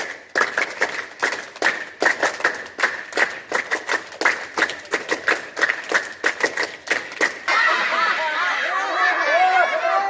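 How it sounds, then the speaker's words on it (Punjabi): Children at B R Sports Academy, Mahindipur, clap in a fast, loud rhythmic pattern of crisp bursts, then break into a sustained wash of lively applause with chatter mixed in, close by. "ਇਹ ਹੈ ਏ ਗ੍ਰੇਡ ਤਾੜੀ"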